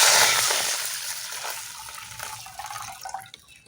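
Water gushes into a cooking pot for mung bean dal with egg, starting loud and splashy, then thinning to lighter trickles and drips as the pour tapers off.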